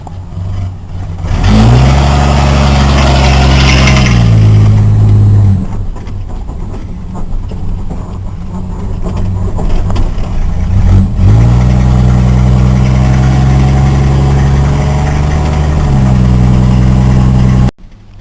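Truck engine with a low idle being revved repeatedly, loud close rumbling that climbs to higher revs, settles back, then rises again before cutting off abruptly at the end.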